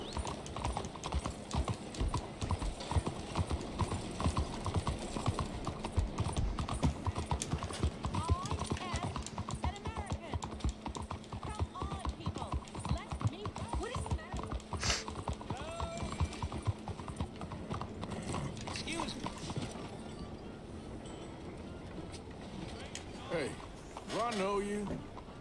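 Horse hooves clop in a steady walking rhythm throughout in the video game Red Dead Redemption 2, with soft background sounds and occasional voices talking over them.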